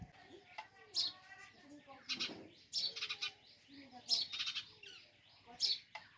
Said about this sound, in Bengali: চড়ুই পাখিটা মোটর সাইকেলের মধ্যে নিজের ছবি নিজে দেখে ঠোকরাচ্ছে